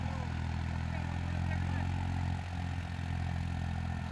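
Farm tractor engine running steadily in village fields, a Farmtrac 3630 Super or Massey 8055, a low droning rumble at moderate distance with a slight dip in load midway.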